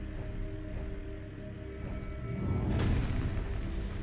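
A morph ball bomb explodes in Metroid Prime, one mid-loud boom with a broad rumbling burst at about 2.8 seconds, heard over a steady droning game ambience.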